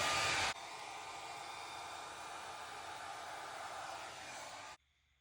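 A blower or hair dryer pushes air across poured acrylic paint in a Dutch pour, a steady loud broadband rush that starts with a brief louder burst, runs evenly for about four seconds, then cuts off abruptly.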